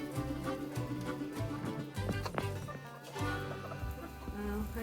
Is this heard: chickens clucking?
yes